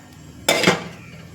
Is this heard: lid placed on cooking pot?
yes